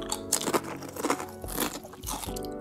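A toy cockroach from a bag of novelty cockroaches is bitten and chewed close to the mic, giving a run of loud crunching and crackling bursts with no speech.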